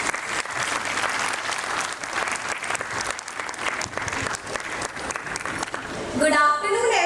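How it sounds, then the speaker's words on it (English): Sustained audience applause for a children's performance at a school annual function, a dense steady wash of clapping from a large crowd, swelling slightly louder near the end. "Please give them a big heartfelt round of applause."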